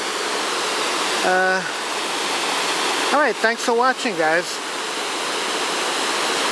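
Rocky Glen Falls waterfall in New Hampshire, a steady broadband rush of falling water running throughout, with someone talking briefly over it.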